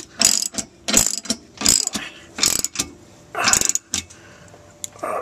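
Hand ratchet snugging down bolts on a trailer hitch being installed on a 2006 Jeep Commander, heard as several close, loud bursts of rapid clicking separated by short pauses, with no talking.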